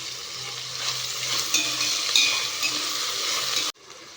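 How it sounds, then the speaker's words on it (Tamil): Onions sautéing with salt in a pan for chicken biryani, a close loud sizzle with scraping stir strokes and clinks, running steadily before cutting off abruptly near the end. "வெங்காயம் நல்லா வதங்குறதுக்காக கொஞ்சம் உப்பு சேர்த்துக்கோங்க."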